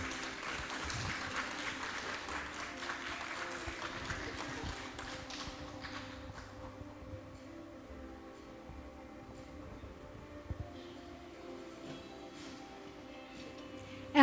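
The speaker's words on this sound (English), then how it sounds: "Let us all give them a round of applause." An audience at an opening ceremony for a local government executives and managers class claps for new scholars. A moderate patter of hands lasts about six seconds, then thins to scattered taps and quiet room noise.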